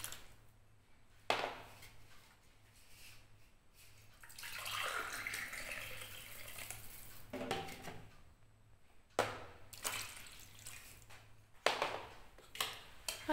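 Warm water pours from a glass into pizza dough ingredients, a soft gurgling pour swelling in the middle, framed by sharp clinks and knocks of kitchenware; no voices.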